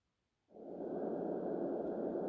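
A Brookstone sleep sound mixer plays its wind setting: steady, hissing broadband rush that swells in after a moment of silence and then holds constant, like soft white noise.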